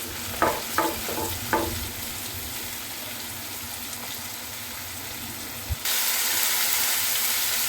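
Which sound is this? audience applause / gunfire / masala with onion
masala with onion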